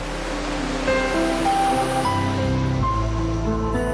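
Ocean waves in the open sea at night, a steady broad wash of surf under a sustained low drone and faint tonal music.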